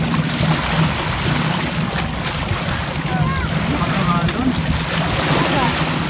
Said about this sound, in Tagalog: Lakas ng alon bro, hindi ako makalublob eh.